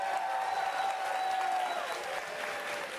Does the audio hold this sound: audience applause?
yes